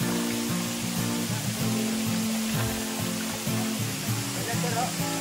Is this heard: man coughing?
no